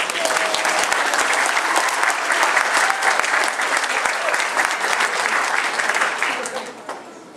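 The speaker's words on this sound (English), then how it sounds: "Give yourself a round of applause." Customers applauding at the opening ceremony of the Admiral Safeway store in West Seattle, a dense, loud burst of crowd clapping that holds steady before tapering off at the end.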